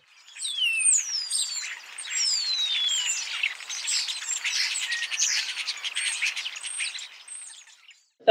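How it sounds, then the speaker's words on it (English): A European starling sings a long, varied stream of whistles, sliding notes, clicks and chatter, steady and clear with no pauses, alone with no other sound around it. "let's hear a starling"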